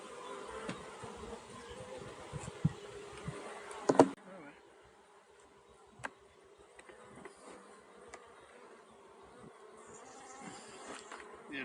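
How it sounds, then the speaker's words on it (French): A dense hum of many bees crowds a hive, a steady buzzing swarm with a few louder passes and clicks, faint voices murmuring underneath. "Voilà, il y a plein d'abeilles."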